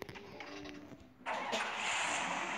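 A video game motorcycle engine cranks over and catches, then settles into a steady loud running drone after a brief quieter stretch.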